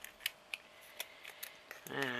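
Scissors snip paper repeatedly in quick, crisp clicks at an even pace, close and quiet, before a voice starts speaking at the end.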